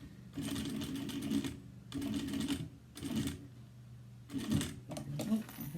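A sewing machine stitches a cross body bag in four close bursts of rapid, even whirring, each about a second long, with short pauses between them while the fabric is turned.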